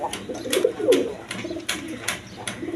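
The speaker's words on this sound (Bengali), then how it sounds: "এখানে এক পেয়ার শার্টিং কবুতর আছে" A pair of Shirting pigeons, one black and one blue, coo softly and repeatedly up close, low rolling calls recurring over a faint background of chirps and light noise.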